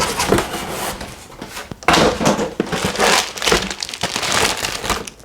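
Crinkling and crushing packaging while an Icon Airflite MIPS Stealth motorcycle helmet is unboxed, a dense, continuous rustle of plastic and paper with louder bursts, close and alone without talk.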